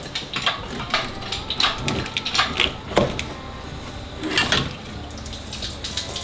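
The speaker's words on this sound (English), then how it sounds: "There's all the water that didn't get drained out." Leftover water splashes and trickles out of an abandoned Chevrolet El Camino's engine as it is pulled, an uneven pouring and dripping sound with occasional louder gushes and faint clunks nearby.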